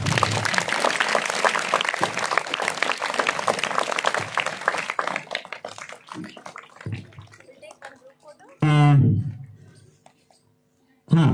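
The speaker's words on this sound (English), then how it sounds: "Let us clap loudly." Students and guests at a school speech competition clap loudly and thickly for the winners, the applause thinning out and fading after about six seconds, followed by a brief voice and a short noise.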